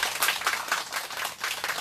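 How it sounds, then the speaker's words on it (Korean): An audience claps in steady, dense applause throughout a short stretch, moderately loud and with no voices. "큰 박수 부탁드리겠습니다"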